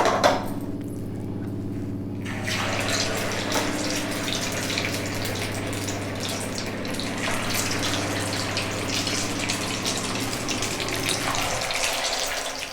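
Flattened rice (poha) vadas dropped into hot oil fry with a steady, continuous bubbling hiss, loud and close, with a brief clatter at the start and a low hum beneath throughout.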